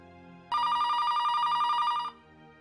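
A telephone bell rings loudly in one sustained electronic trill lasting about a second and a half, over a quiet indoor background in a crime drama scene.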